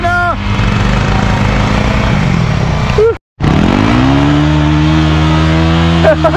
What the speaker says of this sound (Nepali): एउटा गाडी हिँडिरहेको छ